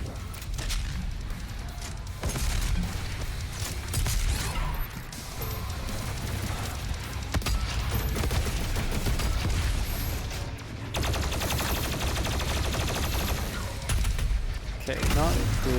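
BFG 10,000 firing in the video game DOOM Eternal, amid a dense chaotic din of heavy blasts, crashes and rapid gunfire, with talk mixed in at times.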